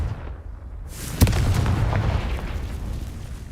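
A Confringo spell blast in Hogwarts Legacy goes off as a sudden sharp boom, then rolls into a sustained, loud rumbling roar that carries on to the end.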